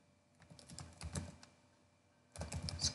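Typing on a computer keyboard, entering a name: two quick bursts of close keystrokes with a pause between, soft and clicky.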